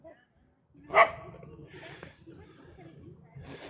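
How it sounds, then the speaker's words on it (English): Dogs bark near a spot where two dogs roam outdoors, one sharp loud bark followed by softer yips and whimpers, with a person talking over and between them. "Hard to concentrate when the dogs are around."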